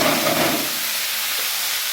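Potatoes frying in salted oil give a loud, bright hissing sizzle that starts strong and settles into a steady lower crackle, heard alone and close up.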